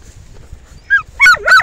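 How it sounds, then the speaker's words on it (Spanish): Several dogs let out a couple of short, high whining yelps near the end after a quiet start, close and fairly loud with no talking. "Quietos perritos."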